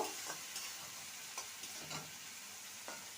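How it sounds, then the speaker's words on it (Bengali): Tomato cooked down with half a teaspoon of ginger paste sizzles and fries in a pan, with soft scraping stir strokes occurring every second or so over a steady hiss. "আদা বাটা দিয়ে ভালো করে কষিয়ে নেব"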